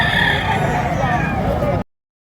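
A rooster crows loudly and close among the bustle of a chicken market, one sustained call that cuts off abruptly.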